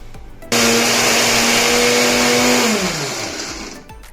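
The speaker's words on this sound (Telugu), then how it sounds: "ఎండుమిర్చి కరివేపాకు అవి అవి కూడా వేసి ఒక్కసారి మిక్సీ పట్టుకుందాం" A loud mixer grinder grinding dried red chillies, curry leaves and spices whirs at full power for a couple of seconds, its pitch dropping as the motor winds down.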